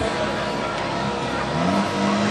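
Rodeo race cars sit revving side by side before a start, a dense, steady engine roar with a rising rev tone near the end and a faint voice underneath.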